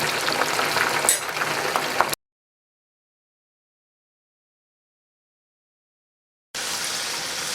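Yam strips frying in a pan while being stirred, giving a bubbling sizzle with scraping; the sound drops out for a long gap in the middle and then returns.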